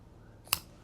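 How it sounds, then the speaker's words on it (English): One quick, crisp snip as scissors cut through yarn in a quiet room, a single short sound with nothing else around it. "Now take your scissors and cut your yarn."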